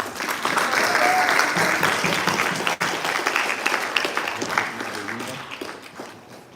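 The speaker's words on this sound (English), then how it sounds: "A round of applause." A crowd at a live media event breaks into a round of applause, steady clapping at moderate distance with faint voices underneath, tapering off toward the end.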